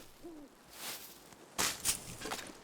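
Ptarmigan calling in the survival video game The Long Dark, a few short bright chirps and a low hooting note spread across a quiet wintry soundscape, fairly faint and distant with no talk.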